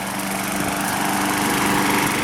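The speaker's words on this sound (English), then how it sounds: "I'm driving a lawnmower around." Craftsman 6.75hp self-propelled lawnmower running close by in a suburban yard, a steady, loud buzzing engine drone held without a break.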